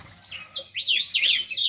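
A goldfinch calling with a quick run of bright, sweeping chirps that grow louder and busier, close by and with no other sounds.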